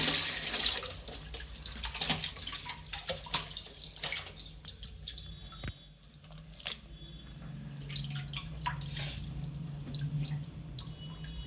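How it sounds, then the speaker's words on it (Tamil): Meat being rinsed by hand under a running kitchen tap, with a continuous splashing water stream, irregular drips and wet handling noises, moderately close and fairly quiet, with no talking. "இப்படி நல்லா தண்ணி பைப்பு தண்ணியை பிடிச்சி இப்படி பண்ணுங்க."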